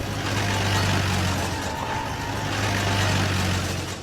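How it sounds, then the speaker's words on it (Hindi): Steady broadband engine rumble of a vehicle in a village, continuous and fairly loud, with a low idling hum and no clear change in pitch, heard alone without any voices. "तभी अचानक गांव में एक गाड़ी आकर रुकी।"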